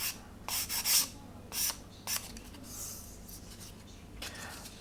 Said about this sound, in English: we've got some ejector pin plastic protruding, so we need to sand that down.